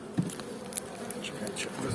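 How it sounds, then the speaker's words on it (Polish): Honey bees buzz in a steady, dense hum close by in an open hive, with a few faint knocks and rustles of frames being handled mixed in. "w każdej uliczce jak widać są pszczoły"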